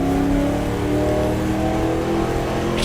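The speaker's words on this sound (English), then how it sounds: "Get it onto the straightaway, past the loud Ferrari for I think the last time." A loud Ferrari race car in the GTR2 game, at a 1966 Daytona 24 Hours race, roars continuously with a droning engine note, close and steady throughout, no voices.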